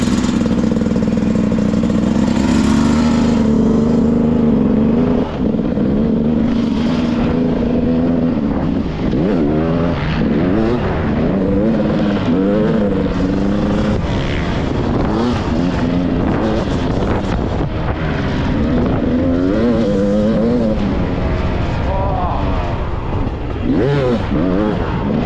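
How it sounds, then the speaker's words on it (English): A dirt bike engine runs close and loud for the whole stretch, its pitch climbing and dropping through repeated revs with no break. "Start engine."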